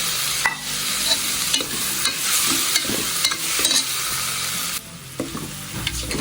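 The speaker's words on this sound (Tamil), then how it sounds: "பீன்ஸை போட்டு வதக்கணும்." Beans with mint and coriander leaves stir-fried in a pan, giving a loud, close, continuous sizzle and hiss with irregular scraping strokes of a spatula, easing briefly near the end, no talk.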